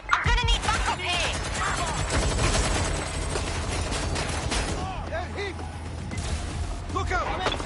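Rapid bursts of automatic gunfire fill a firefight in GTA on PS5, loud and continuous with sharp overlapping cracks and impacts, while in-game voices shout over the shooting.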